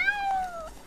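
A cat in the video game ShadowSide gives a single clear, drawn-out meow that falls in pitch, heard alone over faint background music.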